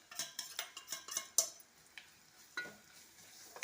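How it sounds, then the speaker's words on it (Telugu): A spoon stirs curry masala in a pot over a gentle sizzle, with about eight soft scraping strokes in a loose rhythm, close and quiet, and no talking. "దాన్ని బాగా కలిపెట్టుకోవాలి."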